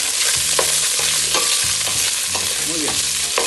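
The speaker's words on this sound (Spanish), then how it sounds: "Vamos a echar la carne ahora para que se fríe, para que se guise." Pork meat frying in a pan for carne de puerco en salsa de tomatillo, a loud, dense sizzle that crackles steadily at close range, with a low tonal hum underneath.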